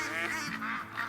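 Duck calls from a flock in theHunter: Call of the Wild at Layton, honking and quacking overlapping in a continuous, fairly close, steady chorus with no voices.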